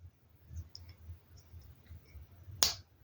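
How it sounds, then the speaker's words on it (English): Small plastic Lego minifigure parts from a Series 26 space set click together, with faint soft fiddling taps and then one sharp, close snap near the end. "Then these click on this."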